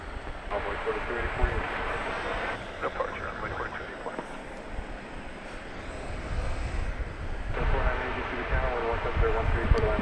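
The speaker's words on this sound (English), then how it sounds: "That's flight 2496, American Airlines coming in from Portland, Oregon, an Airbus A321" An American Airlines Airbus A321 arriving at DFW Airport after dark roars steadily in the distance as a broad engine rumble that swells and eases, with a person talking over it throughout.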